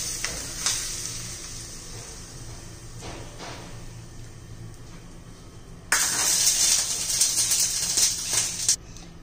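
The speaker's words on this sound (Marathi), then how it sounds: "आता जिरं मोहरी तडतडली" Mustard and cumin seeds crackle and sizzle in hot oil for tempering. A steady hiss with scattered pops swells noticeably louder partway through, then settles, and no one speaks.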